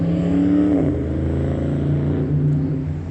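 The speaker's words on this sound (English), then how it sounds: "It's a suburban SUV truck." A Suburban SUV drives past in a parking lot, a close engine rumble that swells and then shifts as the vehicle goes by, with no voices heard.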